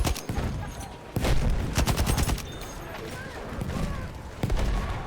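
Loud bursts of automatic gunfire and sharp shots from the Battlefield 1 video game crack in rapid volleys, with heavy low booms under gameplay noise and a voice talking.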